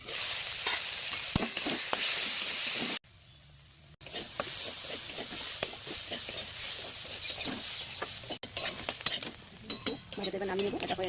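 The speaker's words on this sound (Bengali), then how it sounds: "কালো জিরে ফোড়ন দিয়ে তারপরে ভাজা করছি।" Vegetables sizzle in a wok after a black cumin tempering, with steady frying hiss broken by spatula scrapes and stirring clinks against the pan, one brief quiet gap, fairly faint overall.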